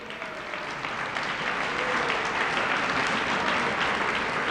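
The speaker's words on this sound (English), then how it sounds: "give them a huge round of applause right now" An audience at a victory gala applauds in a steady, full burst of clapping that holds evenly and close throughout, with no voices rising above it.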